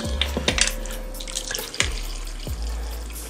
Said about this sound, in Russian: И наливаем наше вино.